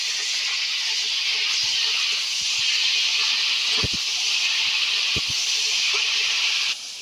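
Gourd leaves tossed into hot oil with browned garlic and green chillies give a steady, loud hiss of frying that runs without pause, with a few low knocks from the pan.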